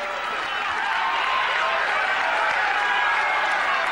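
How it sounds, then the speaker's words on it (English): A packed boxing arena crowd at the Vernon Forrest versus Ricardo Mayorga fight roars between rounds, a steady, dense, loud wash of cheering and clapping with no letup. "the crowd noise so much you couldn't hear the bell go to start that one"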